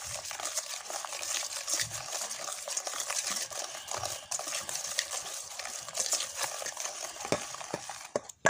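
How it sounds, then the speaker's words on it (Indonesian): Cake batter being stirred in a bowl after powdered milk is added, a steady scraping and swishing of the spoon that continues throughout without speech. "Kita aduk rata ya."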